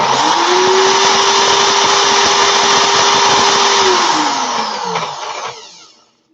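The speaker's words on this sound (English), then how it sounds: "put the drill in reverse." A power drill running in reverse whines at a steady high pitch for several seconds, then winds down and cuts off near the end, while loosening a wire coil.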